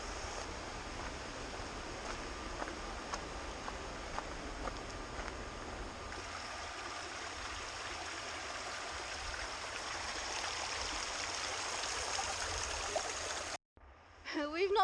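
A river flows beside a hiking trail in Theth National Park, Albania, as a steady broadband rush of water. It stays constant and fairly close for most of the stretch, then a brief handling bump and wind noise cut in near the end.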